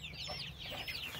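A hen clucks softly and repeatedly, with faint high peeps of her newly bought chicks around her against a low background hum.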